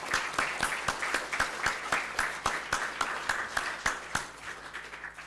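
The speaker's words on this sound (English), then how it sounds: "You have a well-deserved applause." An audience claps steadily for several seconds at a wildlife photography awards ceremony, a full room of hands applauding together without any voices.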